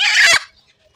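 Village chicken giving a single brief, close cluck-like call that cuts off abruptly, followed by near silence.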